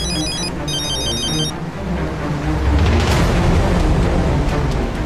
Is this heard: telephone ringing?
yes